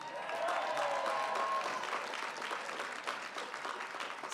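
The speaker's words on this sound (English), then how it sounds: "Let's cheer for you." A large audience applauds graduates at a 2019 university commencement ceremony, steady dense clapping filling the hall with a faint whoop early on, sustained throughout.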